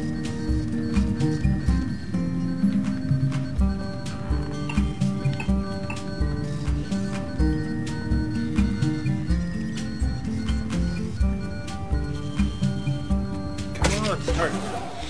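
Rhythmic clip-clop of horse hooves runs throughout over a busy LittleBigPlanet game soundtrack during a horse race, with a whinny near the end and talk mixed in.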